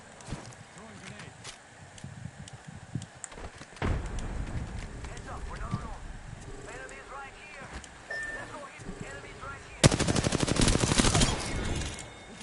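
Bursts of gunfire in the shooter game Apex Legends, a sharp crack near the start, then a dense, loud rattle of rapid shots near the end, over game noise and chatter.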